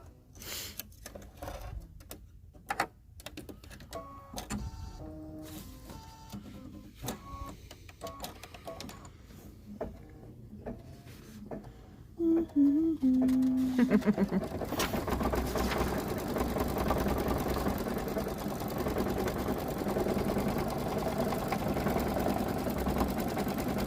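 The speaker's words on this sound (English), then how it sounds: "we're going to stitch out the word happy" An embroidery machine stitches the word happy in yellow thread onto a shamrock coaster in the hoop: a quick, uneven mechanical clatter of needle strokes at first, then a steady, louder whirring hum of continuous stitching.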